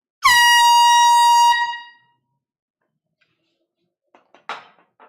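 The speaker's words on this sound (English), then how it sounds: "And now we have our first air horn of the night" A single loud air horn blast rings out at a live record sale, holding steady for over a second before fading, followed by quiet and a few faint knocks.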